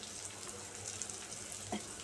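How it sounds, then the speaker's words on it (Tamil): Water poured into roasted gram (pottukadalai) while mixing a paste for kurma to serve with idli and dosa, a soft steady trickle and splash close by with a brief louder splash near the end. "இப்போ இதை வந்து தண்ணி ஊற்றி கரைச்சிக்கலாம்"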